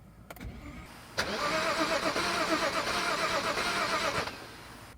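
A BMW 535xi wagon with many faults cranks after sitting a while, the starter whirring steadily for about three seconds under a couple of sharp clicks before it stops, close and fairly loud.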